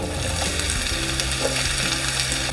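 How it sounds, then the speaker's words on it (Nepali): Sliced onion frying in hot oil with cumin and a bay leaf, a steady close dense sizzle throughout with no voices. "प्याजलाई हल्का ब्राउन हुने गरी फ्राई गरौँ।"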